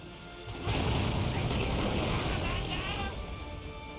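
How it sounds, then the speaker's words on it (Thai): A heavy cannon boom in the video game Uncharted Waters erupts and rolls into a loud, sustained rumbling blast that slowly fades, with the dense noise of an explosion filling the whole clip. "ปืนใหญ่ดูสิ"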